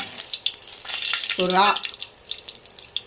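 Whole spices, bay leaf, cardamom and other aromatics sizzling in hot oil for soybean rice, a steady crackling fry under a brief voiced murmur and small clinks.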